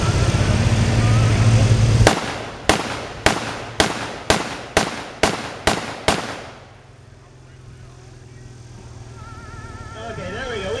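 A German G43 rifle firing blanks through a blank firing adapter at a D-Day reenactment in Ohio, eight loud, sharp shots evenly paced about half a second apart, followed by quieter outdoor ambience and engine hum.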